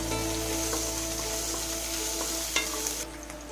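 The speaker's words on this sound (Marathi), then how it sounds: "जिरे घातल्यानंतर आता आपल्याला घालायचं आहे यात मिरची. थोडं फ्राय करूया." Cumin and green chili sizzle in hot oil in a kadhai, a steady close frying hiss with faint stirring clinks, no voices.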